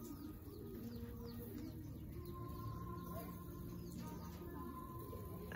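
Pigeons coo and call softly at a distance in an outdoor loft during rain, a faint steady bed of bird sounds under ongoing talk and background noise.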